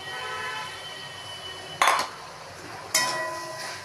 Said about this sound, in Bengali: মশলাটাকে ভালো করে কষার পর ঝিনুকগুলো দিয়ে দিলাম।